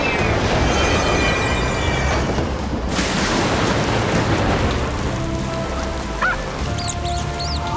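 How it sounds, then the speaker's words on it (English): Steady heavy rain pours in a PAW Patrol cartoon scene, a dense continuous hiss throughout, with brief high cartoon squeaks near the end. "But the rain is still gonna wash away our mural."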